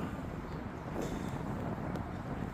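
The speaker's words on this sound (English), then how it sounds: "It is pretty windy, I have to say" Outdoor wind buffets a phone microphone, a steady low rumble with gusty swells for a few seconds, fairly faint and with no talking.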